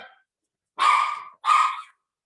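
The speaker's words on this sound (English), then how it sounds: "Oh, remember I warned you about those dogs?" Dogs barking near an old asylum building: two loud, sharp barks in quick succession after a short faint yelp, with silence in between and no talking.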